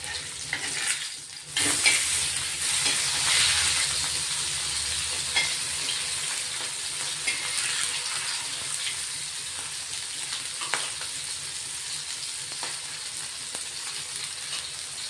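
Surmai kingfish slices fry in a pan over medium-low heat with a steady, close sizzle and hiss, marked by occasional stirring scrapes and a spatula knock near the start.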